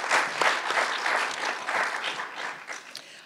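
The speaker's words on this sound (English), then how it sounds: "you all get to give them a round of applause" Audience applause in a meeting room at a 2018 CalPERS public agency member election candidate forum, sustained steady clapping from many hands throughout, fairly close and even, with no talk over it.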